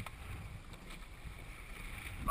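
A men's eight rowing crew's oars working through the water, heard as a faint, soft wash and splash under wind noise.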